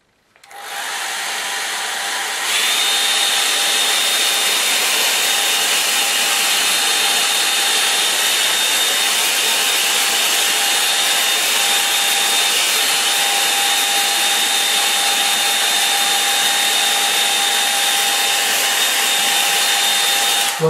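A hair dryer blows over a watercolour painting, switching on with a rising rush and then holding a loud, steady roar with a thin whine for the rest of the time. No one speaks.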